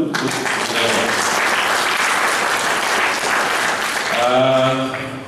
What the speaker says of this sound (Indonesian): Sekali lagi tepuk tangan dulu kan.